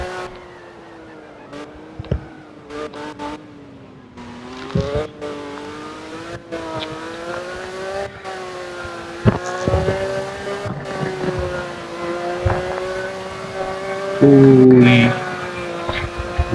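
Porsche engine in a racing video game, revving and accelerating with a steady droning exhaust note that shifts pitch with gears, ending in a louder burst of exhaust pops near the close.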